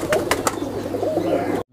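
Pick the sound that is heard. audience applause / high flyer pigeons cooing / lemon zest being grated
high flyer pigeons cooing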